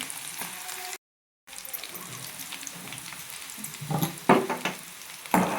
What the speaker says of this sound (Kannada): ಪುಟಾಣಿ ಈರುಳ್ಳಿ ಕಟ್ ಮಾಡಿ ಹಾಕಿದ್ದೀನಿ